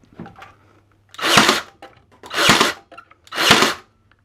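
A FERREX 18V cordless nail gun, model CCT18GW, on single-shot mode, with three separate loud whooshing, clattering bursts, each lasting under half a second, spaced about a second apart, close by in a quiet room.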